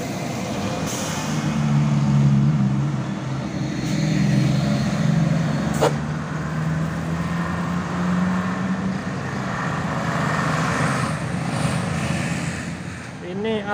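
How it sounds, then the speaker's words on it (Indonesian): A large coach bus rumbles past on a sharp bend with a low engine drone and a hiss of air brakes, amid steady road traffic noise. "Ini Coach Bus Tronton."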